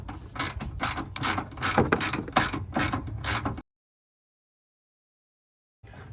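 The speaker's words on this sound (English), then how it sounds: "he's putting the bolt in" A bolt being threaded in with a ratchet during a K&N cold air intake install on a Chevrolet S10, a close run of rapid rhythmic clicks that stops abruptly, then silence and a brief resumption.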